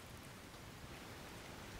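Rain falls in the Russian Fishing 4 fishing game as a soft, even hiss of steady rainfall, with no talking over it.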